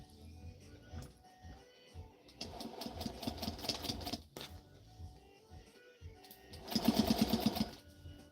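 Domestic sewing machine stitching a dart in a trouser leg, running in two bursts with a rapid, whirring needle rhythm; the second burst is louder and close by, separated by quieter handling noise.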